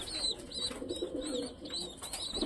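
Pigeons coo in soft, repeated calls over a steady murmur of background noise while an adult feeds a chick, the cooing rising and falling several times close by.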